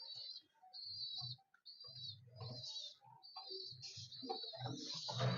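Blue-beak blue-patch pigeons heard close by, soft repeated cooing and chirping calls in short bursts with brief quiet gaps between them.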